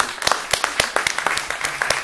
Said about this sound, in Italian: possiamo fare un applauso